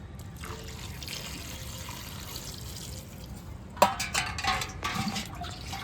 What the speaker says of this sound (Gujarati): ભાઈ પાણી ભરીને નાખે છે